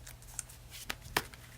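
Tarot cards are handled and drawn: a few soft, quiet riffling and snapping flicks, isolated and brief against a faint low hum.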